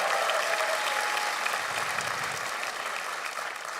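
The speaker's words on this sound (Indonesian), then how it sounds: "Boleh minta tepuk tangannya?" Audience applause at a stand-up comedy competition, a steady wash of many hands clapping that fills the whole stretch and tapers slightly near the end, with no voices over it.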